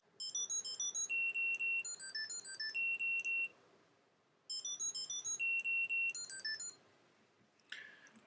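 A MYNT ES Bluetooth tracker plays its ringtone, a bright, high, warbling electronic melody of rapid beeps, sounding in two bursts separated by a short pause, moderately quiet and nearby.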